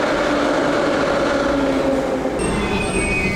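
A Moscow metro train pulls into the station with a loud, sustained rumble and drawn-out wheel squeals, plus a high tonal whine near the end, close by and without speech.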